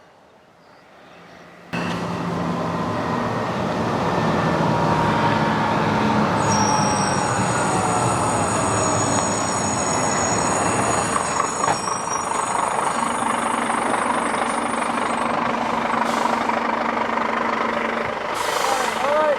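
A truck carrying a prefabricated house in pieces rumbles in and grows steady and loud, with high squealing brake tones and a hiss of air brakes as it draws near.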